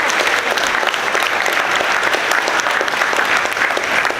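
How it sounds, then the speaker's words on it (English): Students applauding at a school statue dedication ceremony, a loud, continuous wash of many hands clapping together with no voices standing out. "go ahead, you can clap"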